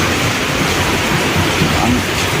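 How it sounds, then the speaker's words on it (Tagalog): Heavy rain pours down in a dense, loud, continuous hiss that holds steady throughout without breaks or voices. "Mga Rose, lakas na ng ulan"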